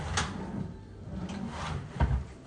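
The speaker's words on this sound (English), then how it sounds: "You've got your pull-out drawers here," Pull-out drawers under a bed in a student room slide open and shut with wooden rumbling scrapes and a few knocks, close up and with no talking.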